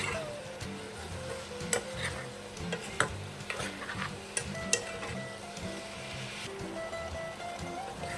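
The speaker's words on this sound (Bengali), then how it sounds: "আমি পেঁয়াজ দিয়ে আর মাংস দিয়ে একসঙ্গে অল্প সময় কষে নেব।" Pigeon meat and onions stir-frying in a pan make a close, continuous sizzle broken by frequent sharp utensil clicks and scrapes, with no talking.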